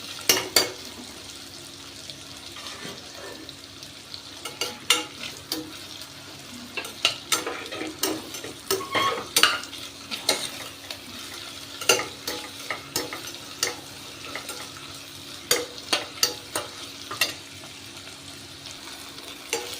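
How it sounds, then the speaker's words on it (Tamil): Sliced onions fry in a pan for white biryani rice, stirred with frequent scraping and clinking spoon strokes over a continuous soft sizzle, with no talk. "ஒரு ரெண்டு மூணு வெங்காயம் இதையும் போட்டு வதக்கிக்கணும்"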